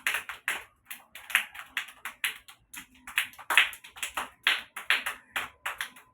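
Group of young children at an Anganwadi clapping hands together in a steady repeated rhythm, about two claps per second, fairly close and even, with no talking over it.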